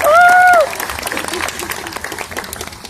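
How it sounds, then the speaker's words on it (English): A crowd claps and cheers at a glass blowing demonstration, scattered applause continuing after a brief voice at the start. "The crowd goes wild."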